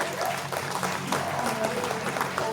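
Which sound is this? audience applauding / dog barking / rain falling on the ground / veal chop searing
audience applauding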